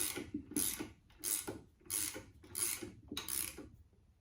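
A ratchet wrench tightens a ball joint bolt on a VW Beetle front beam, giving five or six evenly spaced bursts of close clicking, each about half a second long with brief pauses between them, and no speech.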